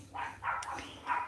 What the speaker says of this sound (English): Neighbor's yapping dog